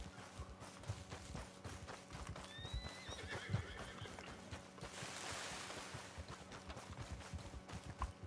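A horse in Red Dead Redemption 2 clip-clops along at a steady pace and lets out a whinny partway through, set over a constant low game ambience, with no talk.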